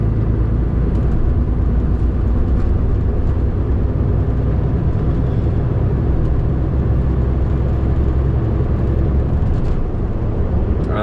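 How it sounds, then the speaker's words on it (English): A car cruises along the B5380 road with a steady, loud engine and tyre rumble that never lets up, heard from inside the cabin with no voices. "we're driving down the B5380"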